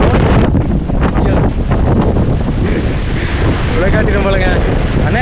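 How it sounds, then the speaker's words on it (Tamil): Strong wind blows hard near the top of Thoppasamy hill in a forest reserve, a loud, steady roar buffeting the microphone throughout, with other faint sounds underneath. "அதெல்லாம் பாருங்க எப்படி காற்று ஆடிட்டு இருக்குன்ட்டு"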